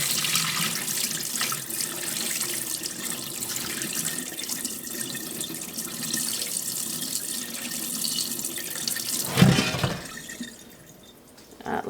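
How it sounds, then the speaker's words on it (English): Whey being poured off fresh cheese curds while making dill Havarti, a steady watery trickle and splash for about ten seconds, with a brief louder burst near the end before it tapers off. "carefully pour off whey without losing your curds"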